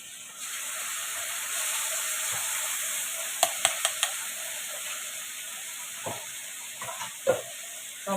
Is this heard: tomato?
yes